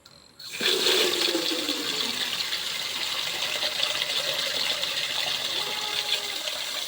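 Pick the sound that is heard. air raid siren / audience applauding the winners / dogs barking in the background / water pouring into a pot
water pouring into a pot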